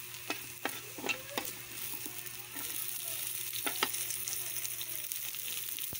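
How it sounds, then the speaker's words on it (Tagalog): Bangus fish with tausi black beans and onion sautéing in a pan, a steady close sizzle that swells after a couple of seconds, with several sharp scrapes and clinks of stirring on top. "igigisa yung ating tausing bangus"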